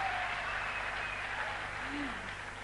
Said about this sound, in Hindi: आप लोग तालियां बजा रहे हैं